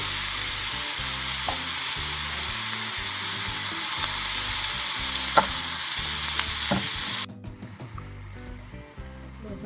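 Cowpeas cook in a pan with salt and turmeric, giving a steady, close frying sizzle with occasional stirring scrapes before the sound drops sharply to a quieter hiss near the end; no talking.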